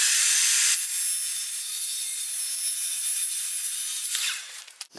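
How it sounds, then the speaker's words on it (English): A table saw cuts through a sheet of plywood for a camper van build, a loud bright whine at the start settling into a sustained cutting hiss before spinning down at the end. "I'm just going to run this through the table saw"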